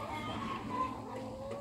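Egg-laying chickens on a chicken farm cluck softly in the background, a few short calls over low outdoor ambience.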